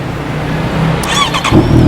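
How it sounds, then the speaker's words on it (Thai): A 2017 Honda CB650F motorcycle with LED headlight starting up, a starter whine followed by the engine catching with a sudden low exhaust rumble near the end, loud and close. "สตาร์ทเชิงเดียวติดครับเสียงท่อบอกเลยว่าลั่นเล้าใจแน่นอน"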